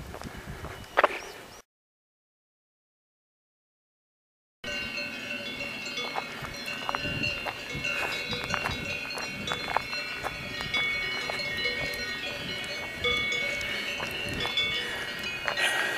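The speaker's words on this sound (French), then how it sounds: "Un joli son de cloche." Cowbells on a herd of grazing livestock in a mountain pasture ring and clank continuously at moderate loudness, with a short dead gap early on.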